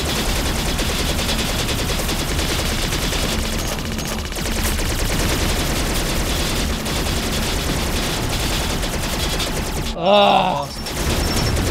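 Game gunfire from Attack of the Movies 3-D: Robot Rebellion, a dense, continuous clatter of rapid shots with one louder burst near the end and a voice speaking briefly over it.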